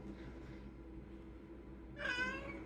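A house cat begging for a snack beside its cabinet gives one short, clear meow near the end, after a stretch of quiet room hum.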